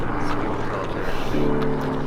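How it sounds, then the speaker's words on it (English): A low, steady mechanical drone with a faint beating rhythm passes overhead as a helicopter flies over Los Angeles, its pitch shifting slightly partway through. "Helicopters over LA."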